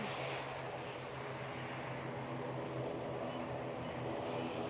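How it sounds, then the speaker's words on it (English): ATR turboprop passing overhead near Manchester Airport, a continuous low propeller drone with a rumbling hum that holds steady and fairly loud across the moment, with no voices. "Got a prop going over our head at the moment."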